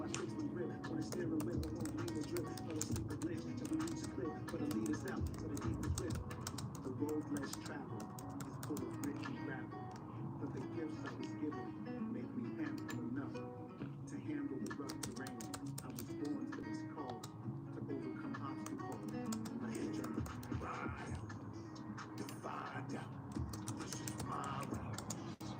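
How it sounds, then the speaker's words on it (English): Fingers type on a computer keyboard in a long run of light, irregular key clicks and taps, mostly heard under someone talking on and off throughout. "I'm over here typing which poll I'm gonna do."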